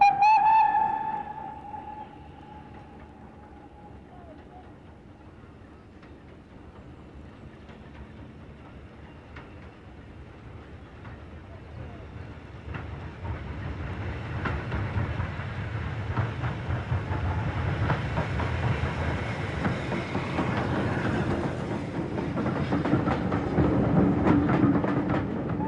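British Railways steam locomotive number 80079 running: a whistle sounds at the start, then a low rumble and rhythmic chuffing build steadily from far off to loud and close.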